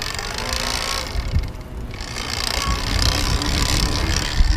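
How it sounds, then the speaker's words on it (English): Haibike SDURO HardSeven e-bike motor spinning at top speed, a loud steady whirring hum mixed with wind and road noise, with a brief dip partway through. "we pretty much maxed out the motor speed and we're only at 14 miles per hour, maybe 15"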